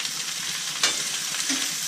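Mustard greens seasoned with country salt and seasoned salt sizzle steadily in a hot pan while being stirred, a close, continuous frying hiss with one brief louder scrape of the spoon.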